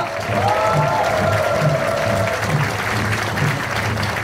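An audience applauds together at the founding ceremony of the New Politics Democratic Alliance party in 2014. The clapping is loud and steady, with a faint tonal sound passing over it early on.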